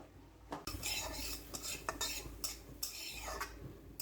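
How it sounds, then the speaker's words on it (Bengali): A metal kadai set on a stove for tempering beef tripe, with close clanks and scraping clatters of metal on metal in irregular knocks, fairly quiet overall. "বাগারের কড়াইটা বসিয়ে দিলাম।"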